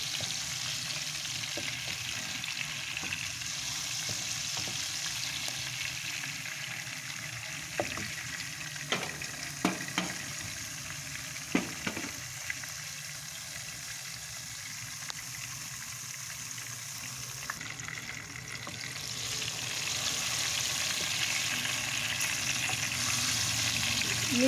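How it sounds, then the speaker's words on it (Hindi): Chillies fry in oil in a pan for achari bhindi, spiced okra, with a steady, close sizzle that lasts the whole stretch, broken by a few faint utensil taps midway and swelling louder toward the end. "मिर्चें फ्राई हो रही हैं।"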